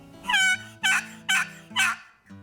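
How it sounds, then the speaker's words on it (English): Box call worked by a spring turkey hunter, giving four loud, close two-note yelps with a slight rasp, evenly spaced and standing alone with no talk. "it's very easily recognizable with a box call. It turns over and makes that very easily distinguished two-note sound."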